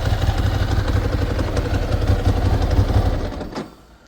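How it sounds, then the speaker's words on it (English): A Ducati ST2 motorcycle idles close by with a steady low throb and a clattery, rattling dry clutch, running loud and even before the engine note drops away sharply near the end. "Obviously a bit of a rattle because it's a Ducati and has a rattly clutch."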